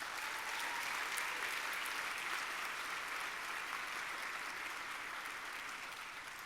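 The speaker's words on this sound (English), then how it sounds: "You can give them a round of applause." Large audience at a union annual meeting applauding steadily, a continuous even wash of clapping heard from a distance at low level, fading slightly toward the end.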